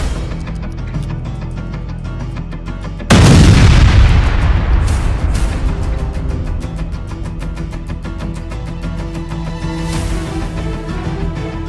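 A bomb goes off with a sudden loud boom that rolls into a long decaying rumble, followed by lingering debris and rattling over a steady background drone.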